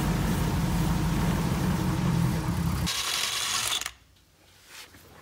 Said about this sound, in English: I'll reinstall the drum and install a couple of lug nuts to keep it on during the test.